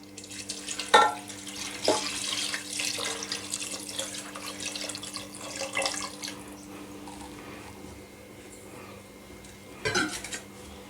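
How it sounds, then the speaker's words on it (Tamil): Water is poured into a pot of beef being cooked for biryani, a splashing, running pour with clinks of pots and utensils, close by and moderately loud, with sharper knocks near the start and end. "இப்போ கறிக்கு தேவையான அளவு தண்ணி ஊற்றிக்குவோம்."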